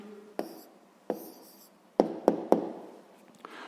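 Pen or chalk strokes tap and scratch as a maths answer is written out, a handful of short, sharp contacts in quick irregular bursts, close and alone without talking.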